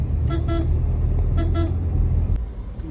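Daytime road traffic near a market, with engines rumbling close by and two pairs of short car horn toots sounding in quick succession before the rumble drops away.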